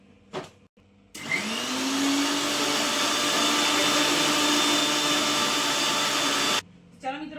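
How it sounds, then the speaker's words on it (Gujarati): A mixer grinder blends neem leaves with a little water, a loud steady motor whir starting with a rising spin-up and running continuously for several seconds before cutting off, with brief voices before and after. "ચલો આપણે ગ્રાઇન્ડ કરી દઈએ મિક્સરમાં"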